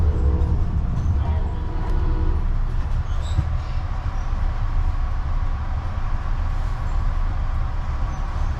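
Amtrak passenger train riding the rails between Kansas City and Chicago, heard from inside as a steady low rumble and rolling wheel noise, continuous and even throughout.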